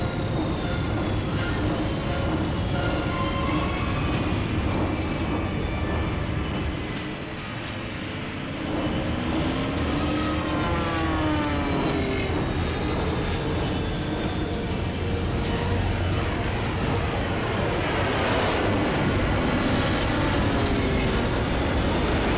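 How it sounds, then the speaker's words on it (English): Heavy, rumbling engines of bombers in an action movie drone continuously for over twenty seconds, loud and dense with shifting tonal whines sweeping across the sound, briefly dipping before swelling again, with no talk over it. "the bombers have reached their IP"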